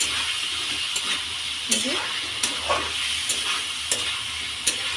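Food frying in a pan with garam masala, a constant close sizzle broken by sharp stirring clinks and scrapes, with a brief word spoken over it.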